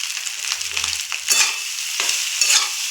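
Eggs and dal hitting a hot pan while cooking pasta: a close, bright sizzle with scraping stirs and a few louder hissing bursts as food is moved around, and no one speaking.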